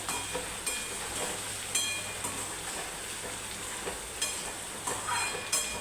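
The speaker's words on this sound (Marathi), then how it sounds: "आपण वांगी ॲड करूया आणि छान परतून घेऊया." Brinjal pieces sautéing in hot oil in a pan, giving a steady sizzle with occasional sharper clinks and stirring scrapes spaced across the clip.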